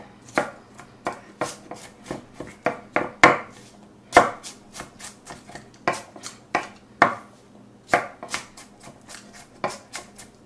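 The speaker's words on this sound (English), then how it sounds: "I would dice these up really small because I prefer if they're small" A knife dices ingredients for Passover charoset into very fine pieces on a board, a steady series of close, crisp chopping knocks with short pauses between bursts.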